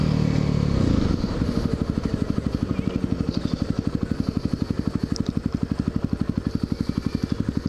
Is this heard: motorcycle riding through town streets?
yes